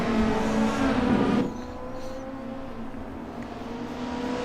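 A touring race car at Road Atlanta accelerates at a restart. A loud, rising engine roar cuts off abruptly after about a second and a half, leaving a quieter, steady engine hum.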